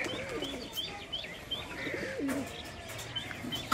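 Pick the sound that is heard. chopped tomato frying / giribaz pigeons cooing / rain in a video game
giribaz pigeons cooing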